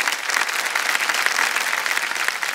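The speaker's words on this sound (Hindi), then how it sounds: "हम चाहेंगे कि सब लोग तालियों के साथ इनका स्वागत करें।" Studio audience applause on the set of the TV quiz show Kaun Banega Crorepati, a dense, steady wash of clapping that holds at an even level for the whole stretch with no talking over it.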